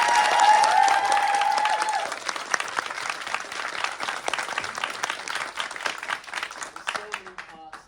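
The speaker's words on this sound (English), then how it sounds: "one round of applause to Trevor" Audience applause for a young-artist showcase, a dense round of clapping that swells loud at the start, then thins and tapers, with a few voices and whistles mixed in near the end.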